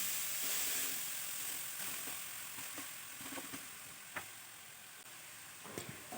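Chopped carrots sizzle in hot ghee, a steady quiet frying hiss with scattered small clicks and scrapes of stirring, no voices.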